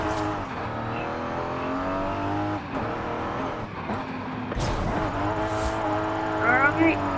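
A Nissan Silvia engine revs and climbs through the gears in the racing game Forza Horizon 5, a steady, loud rising drone with shifts and brief dips, and a voice talks over it.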